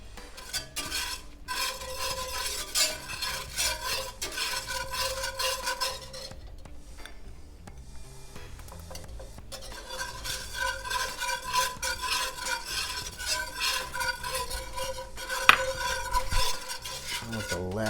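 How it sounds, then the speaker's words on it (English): A whisk scrapes rapidly and rhythmically against a pan, beating cold butter into a pan sauce for pork chops with peaches and champagne. The metallic stirring stops briefly midway, then resumes over a low sizzle. "we're going to whisk in a stick of cold butter"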